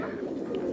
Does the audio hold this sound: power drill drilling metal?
no